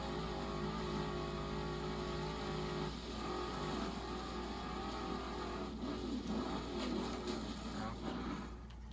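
A race car engine in Forza Horizon 2 hums steadily, then rises and shifts tone as it accelerates, with a low drone underneath and no voices.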